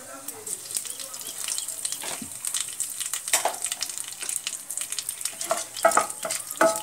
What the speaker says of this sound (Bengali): এরপর আমরা কালো জিরে আর একটা শুকনো লঙ্কা ফোড়ন দেবো।